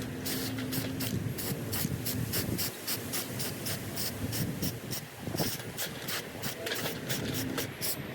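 Spray paint hisses onto a thrifted decor item outdoors, heard as a series of rapid, rhythmic short bursts over steady wind-like background noise, close and fairly loud.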